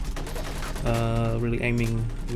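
Bursts of rapid gunfire in the VR co-op shooter game Covert Syndrome, overlapping shots crackling in quick succession with a musical or tonal layer underneath, loud and close.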